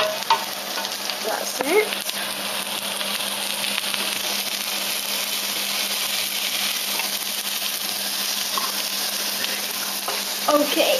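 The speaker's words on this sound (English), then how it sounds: "now we're just going to crisp the bacon up for about 3 minutes" Bacon, garlic and herbs sizzle steadily in a pan, a loud constant frying hiss with occasional scraping stir strokes, close by, and a brief spoken remark over it.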